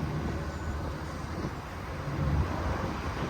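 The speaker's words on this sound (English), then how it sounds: "I know it's windy out here." Wind buffets the microphone outdoors with a low, continuous rumble and gusting roar, fairly loud and unbroken for the whole stretch.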